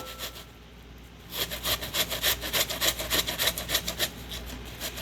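Onion rubbed against a hand grater for guacamole, a steady run of quick rasping scrapes that starts after a quiet moment and continues up close and fairly loud.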